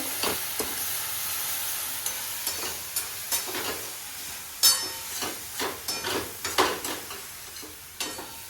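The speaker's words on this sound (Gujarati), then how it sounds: "હવે આપણે એમાં મમરા નાખી દેવાના છે હલાવી લેવાનું બધું મિક્સ કરી લેવાનું છે" Puffed rice (mamra) being stirred in a pan for bhel, giving a steady crisp rustling with repeated scraping strokes of a spoon, close up and with no voices.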